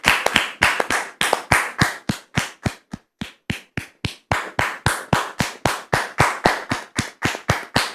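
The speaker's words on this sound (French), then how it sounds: "Je recevoir maintenant Dame Rose sous vos applaudissements, très chers frères et sœurs" A studio audience on a TV talk show set welcomes an arriving guest with loud, rhythmic clapping in unison, sharp regular beats about three per second that continue steadily for several seconds with only a brief stumble.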